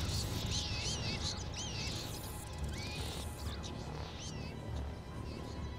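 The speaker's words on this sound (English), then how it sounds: "You sound like a combination of birds and bats." Screeching, chirping boss creature in Castlevania: Lords of Shadow, its bird-like and bat-like cries rising in short warbling calls over a constant rumbling game backdrop.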